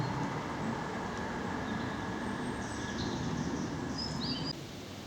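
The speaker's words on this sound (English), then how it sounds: "the old trains are running just the other side of these trees" A steady, distant rumble of old trains running just beyond a stand of trees along the Little Ouse Path, with a few faint bird chirps above it.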